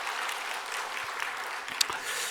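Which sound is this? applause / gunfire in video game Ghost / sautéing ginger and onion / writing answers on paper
applause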